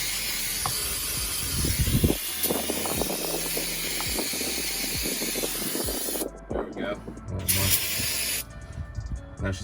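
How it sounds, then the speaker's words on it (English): Brake cleaner sprayed in hissing bursts onto a Jeep WJ driveshaft yoke, several sharp aerosol blasts separated by short pauses, close and loud, with clanks and handling noise in between. "What you do with crappy brake cleaner is you just gob it up in there."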